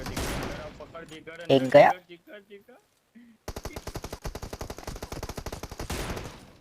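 Rifle shots from an M24 in PUBG gameplay ring out as a rapid string of sharp reports following a few scattered sounds and a brief pause, with someone talking at the start.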